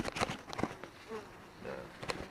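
Bees buzz close by in a soft, wavering drone, with a few light knocks and rustles around them.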